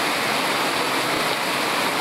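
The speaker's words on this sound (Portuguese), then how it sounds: "Aqui a água continua descendo" Water pours steadily at the Cascata Antônio Monteiro waterfall in Pocinhos do Rio, a dense, even roar of rushing water heard close and alone.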